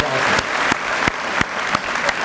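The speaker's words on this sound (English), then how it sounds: "Can we give them a round of applause" An audience at a Veterans Day assembly at Goffstown High School claps for the school choir, a dense burst of applause from the crowd with sharp individual claps standing out, steady for a couple of seconds.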